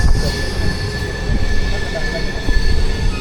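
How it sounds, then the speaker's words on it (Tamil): A diesel locomotive pulls a train past at close range near Dudhsagar Falls, India, with metallic wheel squeal and a low, heavy engine drone; a voice murmurs faintly underneath. "ஓ, டீசல் என்ஜின் புல் பண்ணிட்டு போகுதுங்க."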